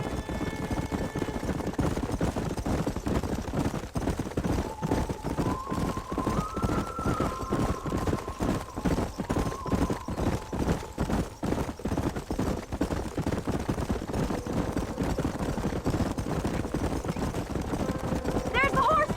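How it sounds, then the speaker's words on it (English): Horses gallop with steady clip-clop hoofbeats in the Western video game Red Dead Redemption, a continuous rhythmic pounding under game music, with voices talking over the ride. "There's the horses!"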